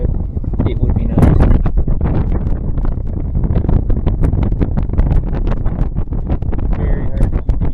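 Wind blowing across a lake, buffeting a microphone near a float tube in heavy, gusty rushes with crackling bursts, while someone talks over it.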